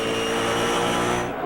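Dodge Trans Am race cars with 310 cubic inch V8 engines roar past at full throttle on the Long Beach street circuit in 1992, a loud, sustained engine howl that cuts off abruptly near the end.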